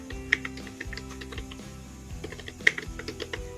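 Someone types a command into the Termux app, a close run of quick keyboard taps in uneven bursts with a couple of louder key strikes, quiet and with no talk.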